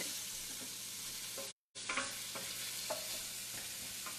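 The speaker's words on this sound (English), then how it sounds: "saute until they get about translucent" Vegetables sauté in a pan with a soft, steady sizzle while a utensil stirs and scrapes in occasional light strokes, and a brief dropout interrupts the middle.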